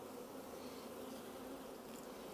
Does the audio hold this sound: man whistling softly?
no